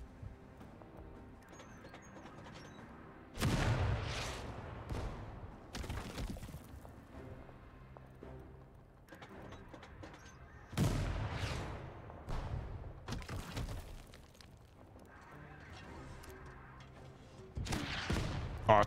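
Artillery barrage in the tank strategy game Total Tank Generals, set in the Battle of Stalingrad: clusters of heavy booming blasts arrive in several bursts, with quieter rumbling gaps between them and no voices.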